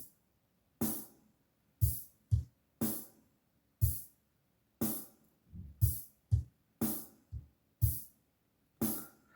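Drum pattern from a Yamaha keyboard's hard rock accompaniment style at 60 beats per minute: loud, punchy kick and snare hits with cymbal wash in a steady slow rock groove, each beat ringing out briefly before the next.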